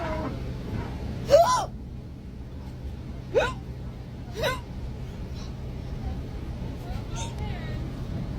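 Repeated hiccups from a person riding a crowded city transit bus, three or four sharp gulping catches spaced a second or two apart over a steady low engine rumble and faint background chatter.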